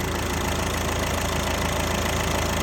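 A Peugeot 5008 engine idles steadily during a timing-belt change, a continuous, even mechanical drone with a faint ticking texture, close and constant throughout with no talk.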